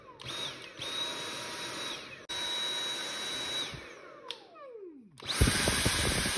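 A Dyson V7 cordless vacuum cleaner running on a Dewalt battery whines at a steady high pitch, cutting out with a falling spin-down and then restarting loudly near the end, with no voices.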